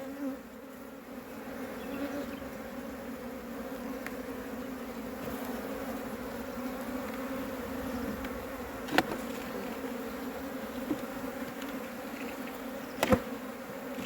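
Honeybees buzz around an open beehive during hive cleaning, a dense, steady drone that is close and continuous, with a few brief clicks and bumps and no talk.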